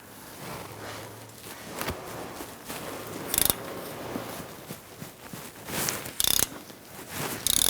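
A ratchet clicks as it loosens a 13mm wheel hub bolt on a 1997-2006 Jeep Wrangler, with quiet intermittent ratcheting strokes, small metallic clanks and a few sharper knocks from the tool close by.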